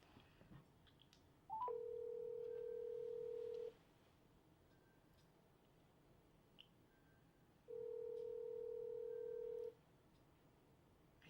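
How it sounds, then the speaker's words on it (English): Two steady phone ringback tones, each about two seconds long and spaced several seconds apart, repeat with nobody picking up. The line is otherwise quiet, with no talking. "I hear his phone ringing, but he's not answering."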